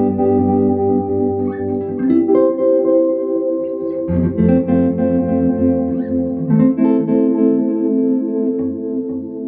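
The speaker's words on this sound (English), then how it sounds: "Delay being fed into the tremolo." Electric guitar chords sent through a delay that feeds into a tremolo effect; sustained, dense chords ring out loudly with a wobbling, slightly choppy volume and repeating echoes, changing chord every couple of seconds.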